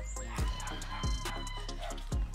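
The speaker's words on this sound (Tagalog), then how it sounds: "ito yung mga breeding natin ng White Kelso" White Kelso breeding chickens, hens and a rooster on a farm: close, loud clucking and repeated short crowing calls that come in several bursts over a few seconds.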